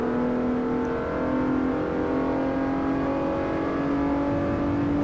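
A car engine in the racing game Forza Motorsport 4 drones steadily and loudly throughout, a sustained whirring engine tone holding at high revs with no talk.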